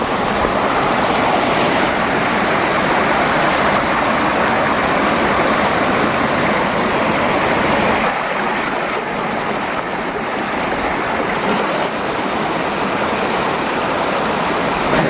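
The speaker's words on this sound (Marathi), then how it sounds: "जसं धबधब्याचं पाणी येतं ना त्या पद्धतीने इकडून पाणी येते आणि जाते ते ह्या खालच्या बाजूला" Water from a stream on a hillside trail to Kalamba Devi temple pours down like a small waterfall, a loud, continuous rushing roar that fills the whole stretch without pause.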